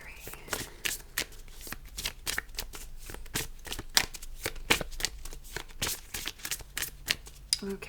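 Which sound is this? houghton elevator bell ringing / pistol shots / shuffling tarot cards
shuffling tarot cards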